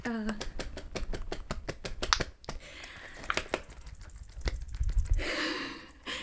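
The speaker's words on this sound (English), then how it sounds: "You can hear my ring going nuts." A metal ring clacks rapidly against a flappable plastic fidget toy in close, dense bursts of sharp clicks, pausing briefly before more rattling, with occasional soft breathing or murmuring nearby.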